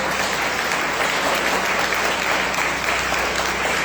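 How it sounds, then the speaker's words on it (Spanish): Congregation in a church service applauding the Lord, a dense, steady wash of clapping sustained throughout with no pauses. "Aleluya, un aplauso al Señor."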